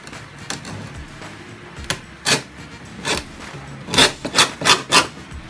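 A hand file working a wooden pull handle, a series of rasping strokes that grow denser and louder toward the end, close by with no talking.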